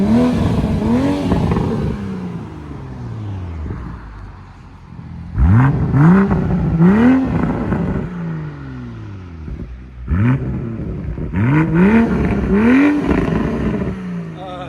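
A Toyota Supra GR engine with an aftermarket exhaust revs hard in three separate bursts, each rising and falling in pitch with a raspy exhaust note, heard up close.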